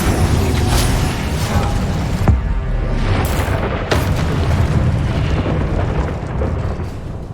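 Incendio fire spell cast in the Hogwarts Legacy video game on PS5: a loud, continuous roaring whoosh of flame with booming bursts and sharp pops throughout, no talk.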